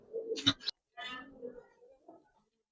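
Gribaz pigeons give soft, throaty coos at close range, a short burst followed by a longer rolling coo that fades out, with no voices over them.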